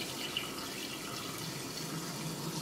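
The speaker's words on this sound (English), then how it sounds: "Just cold running water." Cold tap water runs steadily over delicate zucchini flowers being rinsed, a soft continuous splashing hiss at close range with no talking.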